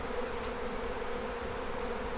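A swarming honey bee colony clustered around its queen produces a steady, dense buzz of many wings, close and continuous from start to finish with no voices.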